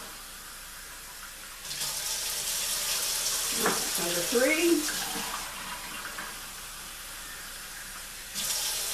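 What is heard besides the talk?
pouring warm water into bread dough bowl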